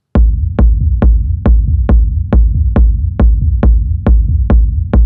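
An electronic rumble kick drum hits twelve times at a steady pace of about two per second, each hit punchy and loud with a long, booming low tail filling the gap to the next.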